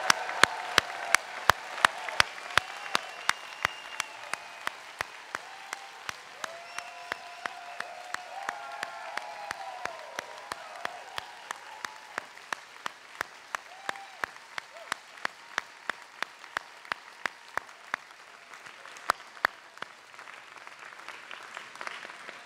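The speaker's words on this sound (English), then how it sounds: "Let's have one final round of applause for the GSB class of 2022" A Stanford GSB graduation ceremony audience gives a long, steady round of applause for the class of 2022. The dense clapping is broken by sharp, regular thumps, and a voice speaks briefly early on.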